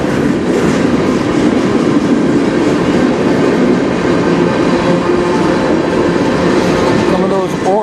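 A CN freight train hauling hopper cars passes near Sarnia, Ontario, with a loud, continuous rolling roar, wheels clacking over rail joints and faint squeals, and a voice talking underneath.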